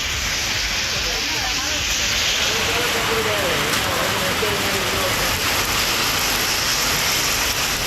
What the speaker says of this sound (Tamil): பலத்த காற்றுடன் பரவலாக மழை பெய்தது